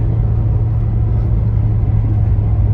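Engine of a 1991 Nissan Sentra SE-R dropping to third gear on a test drive: a loud, steady low rumble close by, droning evenly with no talking.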